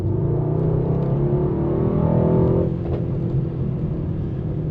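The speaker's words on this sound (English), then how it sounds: "This is a very, very impressive engine. It makes a really good sound too." A 2020 Mercedes-AMG GT63 S V8 engine rumbles loudly and close, its pitch climbing in a rev before settling back to a steady idle growl.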